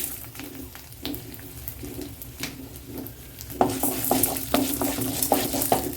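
Garlic and urad dal sauté in a little oil for a chutney, with a soft crackling sizzle and repeated spatula stirs and scrapes against the pan that grow louder and busier halfway through.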